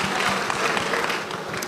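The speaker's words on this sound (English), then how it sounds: "That round of applause." Audience at a university e-learning week event applauds in a dense, steady burst of many hands clapping together, sustained evenly throughout.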